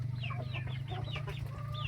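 Chickens cluck in a rural Thai buffalo-raising village, a quick run of short calls over a steady low hum, fairly faint and with no talk.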